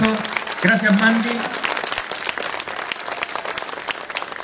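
Audience applause at a dance school gala during a carnival, steady dense clapping filling the hall, with a presenter's voice over it at the start.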